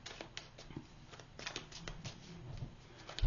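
Tarot cards being shuffled by hand, a rapid run of soft riffling and flicking clicks close by that continues throughout, with no talk over it.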